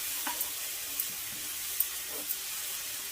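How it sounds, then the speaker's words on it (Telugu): Jaggery melting into syrup in a pan while being stirred, for coconut sweet balls: a soft, steady sizzle with a few faint scraping stirs, quiet and close, no talking. "బెల్లం కరిగి అది కొంచెం పాకం వచ్చే వరకు కూడా మనం ఇలాగా కలుపుకుంటూ కరిగించుకుందాం"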